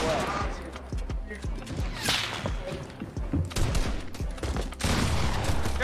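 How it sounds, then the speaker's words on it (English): Bursts of gunfire ring out during a Fortnite Battle Royale match, dense rapid shots close up with some quieter gaps, while players talk and shout over the action. "You shoot the tree and it didn't break, Landon?"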